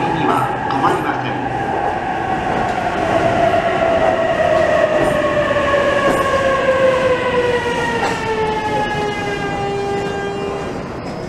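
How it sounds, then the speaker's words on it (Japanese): A Narita Express train pulls into a platform at Tokyo station. An electric motor whine glides steadily downward in pitch as the train slows, over a continuous loud rumble of wheels and station noise. "空港行きが参ります"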